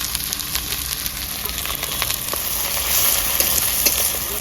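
Onions and whole spices including cloves and green cardamom hit very hot oil for a Begum-style chicken curry, giving a steady close, loud sizzle with crackling pops throughout.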